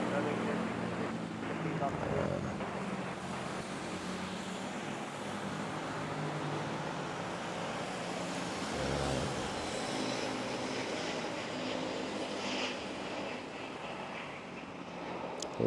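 A passenger jet rolls for takeoff at Manila's NAIA airport, a steady broad roar of engine noise heard from a distance with air traffic radio and voices talking over it throughout.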